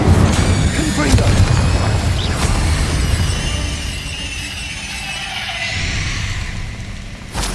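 A booming Confringo blasting-spell explosion from Hogwarts Legacy erupts loud and close, followed by a rumbling, crackling tail that fades over several seconds, with a voice calling out over the start.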